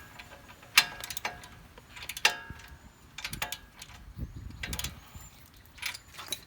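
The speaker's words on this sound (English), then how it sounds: "I should be able to use a socket now. I'm actually using a 7/8 socket" Hand ratchet fitted with a 7/8 deep socket tightening an upper control arm bolt on a truck, sharp clicking bursts in several short strokes, close and crisp over a quiet background.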